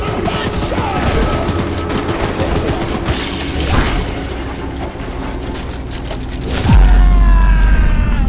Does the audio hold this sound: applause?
no